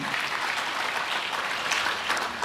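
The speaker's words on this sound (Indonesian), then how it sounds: "Tepuk tangan dong buat Tuhan." A church congregation at a sermon gives a short burst of steady applause, fairly faint and distant, with dense clapping filling the whole moment.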